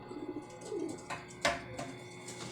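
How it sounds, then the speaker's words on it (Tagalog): A racing pigeon lands at the loft with a few soft coos and brief wing flutters and thumps, fairly close, in otherwise quiet surroundings with no talking. "Siya yung unang drop natin, si Simangot."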